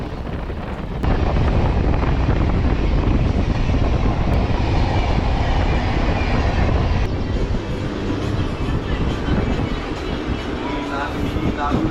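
MEMU passenger train 67204 between Srikalahasti and Nellore, running at speed with a dense, steady roar of wheels and motion and strong wind buffeting the microphone throughout, heard from on board.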